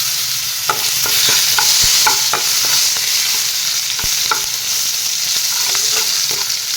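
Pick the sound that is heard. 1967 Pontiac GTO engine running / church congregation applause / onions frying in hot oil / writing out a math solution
onions frying in hot oil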